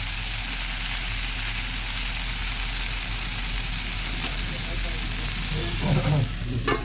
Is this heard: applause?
no